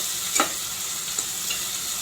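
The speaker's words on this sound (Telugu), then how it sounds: "ఇవి కూడా బాగా కలుపుకుందాం." Ingredients for a chicken pulusu get stirred in a frying pan, giving a steady close sizzle broken by a few short scraping strokes of the spoon.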